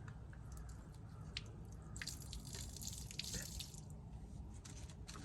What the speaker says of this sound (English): now I'm moving up to the front gray tank. The valve is closed. I can crack this open.